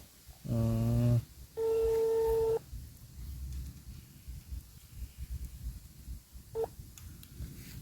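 A telephone rings while a call is placed, with a series of electronic tones: a stepped multi-pitch burst, then a long steady ring tone and a brief later beep, over quiet room noise with faint movement.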